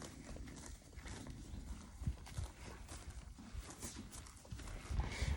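Horses move about close by on a farm, with a few soft hoof thuds and clip-clops scattered through a steady broadband background.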